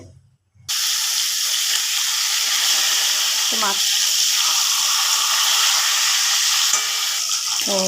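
A fish head fries in hot oil in a wok, giving a loud, steady sizzle that starts abruptly after a brief quiet moment and carries on with occasional stirring and faint voice sounds beneath.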